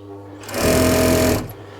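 A 1960s Singer 366K225 industrial sewing machine on a slower 1725 RPM motor starts up and runs at a steady, fast whirring clatter for about a second before stopping, with quiet room noise before and after.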